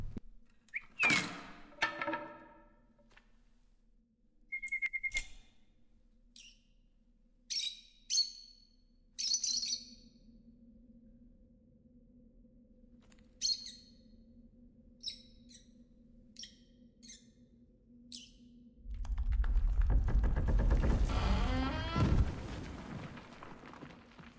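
Repeated short bird chirps and tweets in a video game, scattered in bursts across a quiet, low hum, ending with a louder rumbling rush of noise.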